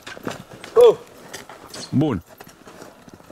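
A Friesian horse's hooves clip-clop close by in an irregular walking rhythm, light knocks repeating under two brief vocal calls from people nearby.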